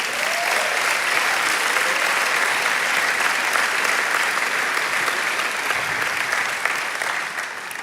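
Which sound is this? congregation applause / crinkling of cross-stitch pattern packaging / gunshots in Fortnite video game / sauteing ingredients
congregation applause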